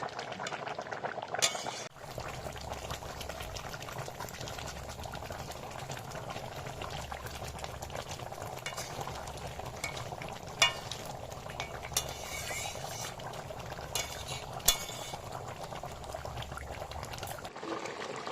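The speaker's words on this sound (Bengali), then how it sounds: "ঝোলটা যখন কমে আসবে তখন বোঝা যাবে যে মাছটা হয়ে গেছে তখন এটাকে নামিয়ে নিতে হবে" Pabda fish curry simmers in a pan with a continuous close bubbling boil, broken by a few brief clinks of a utensil against the pan, and no speech.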